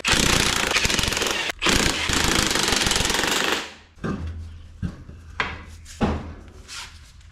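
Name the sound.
removing a car wheel with a power tool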